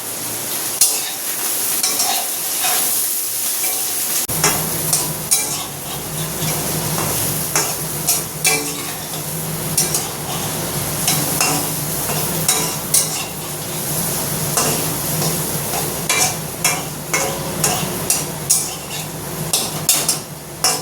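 Onions frying in hot oil for a home-cooked meat curry, a steady close sizzle with a low hum beneath, punctuated by frequent clacks and scrapes of a utensil stirring against the pan after a brief quieter start.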